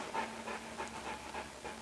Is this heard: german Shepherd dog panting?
yes